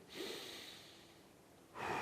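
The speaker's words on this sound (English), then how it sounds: "long, slow breaths out, long, slow breaths in, yeah? So I'm going, breathe in." A person takes slow, deep breaths during a qigong exercise: one long airy breath fading out, then another starting, close and soft, with no talking.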